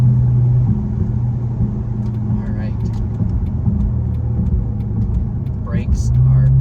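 Chrysler 300 SRT8 with about 77,000 miles pulling hard in a straight line, a loud steady low engine rumble that drops briefly as a gear changes, with a person talking over it.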